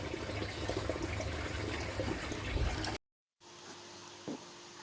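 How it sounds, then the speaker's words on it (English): Water rushing and gurgling steadily as an aquaponics bell siphon drains, then a brief cut to quieter, lower flow with a faint hum and a small bump. "An underwater look at the Bell Siphon as it's about to break. You can see right now that the water's dropping down."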